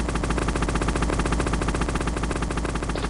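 Rapid, continuous automatic gunfire from an enemy in Metal Gear Solid, a dense unbroken rattle of shots lasting the whole stretch at steady, fairly loud level with no talking.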